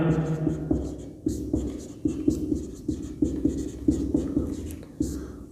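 Pen strokes scratch rhythmically as someone writes out math working by hand during a lesson, with short repeated scribbles and taps close by and a voice briefly present at the start.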